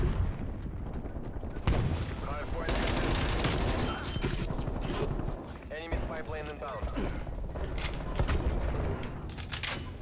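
Gunfire from Call of Duty Black Ops Cold War rattles in sustained automatic bursts during a Hardpoint match as a turret is destroyed, loud and continuous, layered with game effects and a player talking over it.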